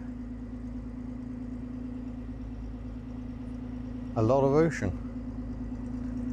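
1974 Toyota Crown cruising on the Great Ocean Road in Victoria, a steady low engine hum throughout under a man's brief speech, with a short louder swell midway.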